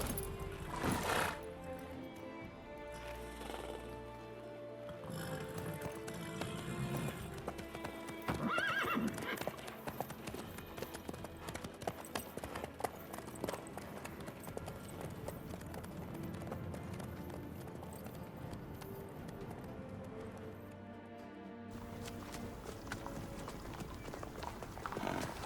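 Horse hooves clip-clop at a steady gallop through a game world of The Witcher 3, with occasional neighs and whinnies over a constant bed of music and ambient effects, sustained throughout.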